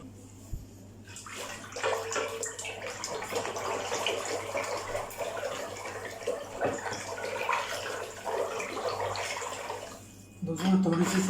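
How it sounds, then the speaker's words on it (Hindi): Water splashes and runs steadily into a container of cream being whisked for homemade butter, for several seconds, with brief clatter at the start and end and a faint voice in the background. "इसमें थोड़ा सा मैं पानी ऐड कर रहा हूँ।"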